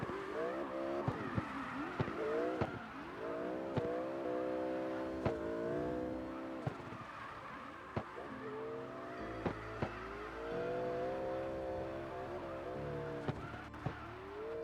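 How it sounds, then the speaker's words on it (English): A Mazda Miata race car driving a course, engine revving up and down through gear changes with rising and falling tones, tires squealing, and sharp clicks and pops punctuating the steady run, heard from close by. "Absolutely devouring this course with that Miata."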